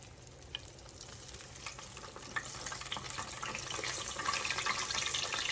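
Breaded eggplant sizzles and fries in a skillet, a steady close crackle that grows slightly louder as more slices go in, with no talking.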